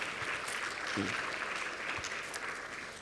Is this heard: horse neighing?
no